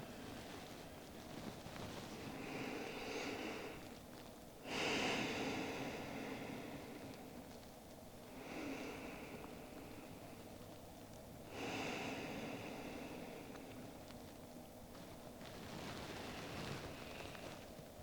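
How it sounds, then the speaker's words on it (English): Slow, deep breaths during a quiet yoga session, soft airy inhales and exhales recurring in long even cycles about every four seconds, faint and close. "I invite you to take another 5 rounds of breath here"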